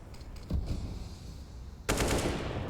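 Two sharp gunshots from the Counter-Strike: Global Offensive video game ring out, a lighter crack early on, then a louder, fuller report that trails off over game ambience.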